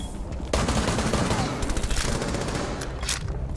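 Rapid automatic gunfire in Rainbow Six Siege, dense and loud, with continuous bursts of shots running through nearly the whole span.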